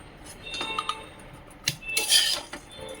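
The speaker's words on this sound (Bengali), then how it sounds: "দিয়ে একটু ভালো করে নাড়াচাড়া করব" A spoon scrapes and clinks against a pot while rice with fried cashews and raisins is stirred, making soft, close rubbing sounds with a few sharper metallic taps.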